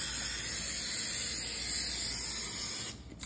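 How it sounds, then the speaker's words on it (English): A steady hiss of Pam butter aerosol cooking spray onto a muffin tin runs continuously for about three seconds, close and fairly loud, then cuts off abruptly. "I'm gonna spray it with my Pam butter."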